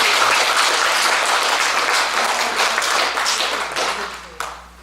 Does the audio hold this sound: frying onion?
no